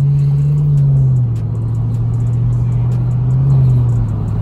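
A car drives along the road, its engine a steady low rumble heard from inside with slight swells in pitch, no talk over it.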